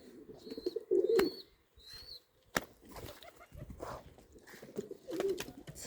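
A flock of about sixteen pigeons being fed, with soft cooing and brief bursts of wing flapping close by, plus scattered small chirps and light pecking sounds between quieter moments.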